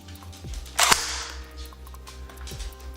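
An overvolted airsoft gun fires a single sharp crack into a piece of drywall, loud and close, with a short decaying tail afterward over a low background hum.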